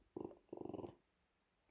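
A dog growls in two low rumbling bursts close by, each under a second, with quiet room tone between.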